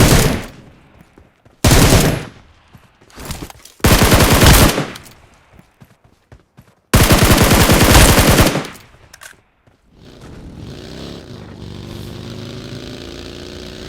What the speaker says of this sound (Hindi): फिर लेफ्ट से दोबारा से साउंड आने लग जाते हैं फायर के